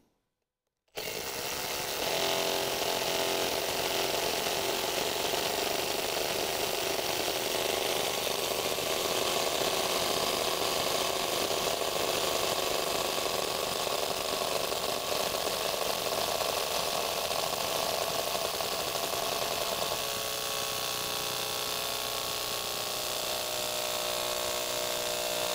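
A power tool runs in high gear, driving a fastener with a continuous loud whirring drone that starts abruptly after a second of silence and holds steady for about twenty-five seconds.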